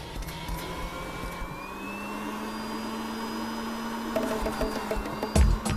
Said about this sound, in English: the Touring Elite comes with, you heard about it, the vacuum cleaner.